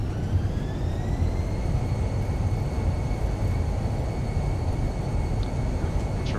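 Airbus A320 engines spooling up to max reverse thrust on a simulated landing rollout, a steady loud broadband roar with sustained whining tones, continuous throughout.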